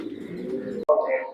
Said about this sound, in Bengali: আমার হাতে একটা কবুতর দেখতে পাচ্ছেন